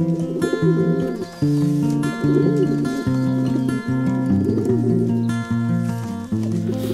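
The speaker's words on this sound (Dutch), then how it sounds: "hier zitten we dus in het jonge duifhok. Dit zijn de eerste ploeg winterjongen." Young racing pigeons in a loft make a continuous layered cooing, loud and close, with many overlapping rolling calls.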